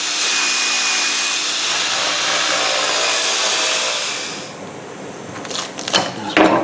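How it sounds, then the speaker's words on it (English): A 320 grit bristle abrasive brush spins on a CNC machine, cleaning the edges of milled mahogany for a travel tic tac toe game. It gives a loud, steady whirring scrub for about four seconds, then cuts out, leaving a few light clicks and knocks. "this is a 320 grit bristle abrasive brush, and I'm just going to clean up any"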